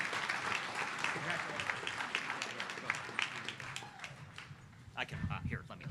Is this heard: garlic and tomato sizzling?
no